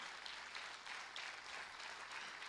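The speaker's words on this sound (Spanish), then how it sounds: "démosle fuerte ese aplauso al Señor" Steady applause from a church congregation, broad and continuous clapping filling the whole moment with no voices on top.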